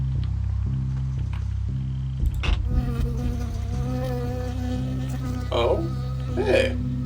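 Buzzing insect in the Firewatch video game, a bee that stings the player, droning close and steady over a low musical background, with brief voice sounds partway through.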